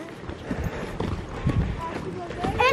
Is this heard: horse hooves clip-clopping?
yes